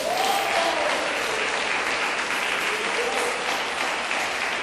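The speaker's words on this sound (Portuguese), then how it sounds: "Quem quer nisso, dá uma salva de palmas para Jesus." Church congregation applauding for Jesus, a dense, steady wash of clapping that holds at full strength throughout without pause.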